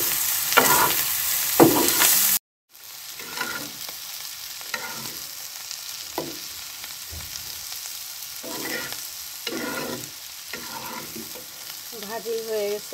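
Green chillies stir-fried with a metal spatula in a worn non-stick pan: a soft continuous sizzle broken by repeated scraping strokes at irregular intervals, close and fairly quiet.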